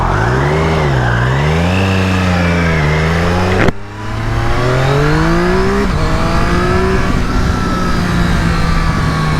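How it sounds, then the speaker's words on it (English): A 2020 Triumph Street Triple RS motorcycle accelerating hard on a bumpy road, its engine revving up through the gears with a brief drop at a shift, loud and close amid wind rush. "Do a couple of hard accelerations, a couple of aggressive braking, and see how she performs."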